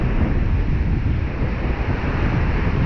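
Strong, steady wind blasting across a microphone on a beach at night, a continuous loud roar with rumbling low gusts and a faint wash of surf beneath, no voices.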